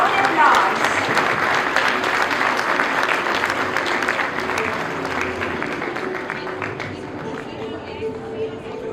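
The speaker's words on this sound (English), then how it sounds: "Cheer them on with loud applause." Sustained applause from a school audience after a students' musical performance, a dense crowd of clapping hands that gradually fades, with a few voices mixed in.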